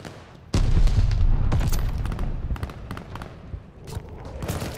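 A grenade goes off in a Call of Duty: Vanguard match with a sudden loud boom, followed by scattered crackling shots and smaller blasts that fade and return.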